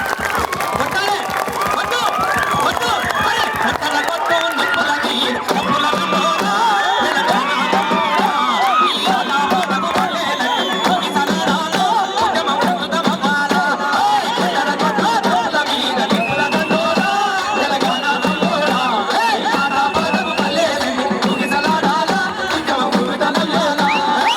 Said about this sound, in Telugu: ఒక్కసారి గట్టిగా మనం అందరూ చప్పట్లు కొట్టాలి, ఇంకా కొట్టాలి